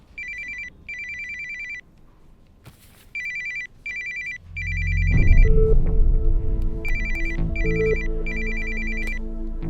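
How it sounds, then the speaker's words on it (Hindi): A telephone ringtone plays in a Hindi-dubbed film scene as clean, repeated electronic ringing bursts. Partway through, a loud, low rumbling swell rises beneath the rings and continues as they keep sounding. "फोन बज रहा है, सुनाई नहीं दे रहा?"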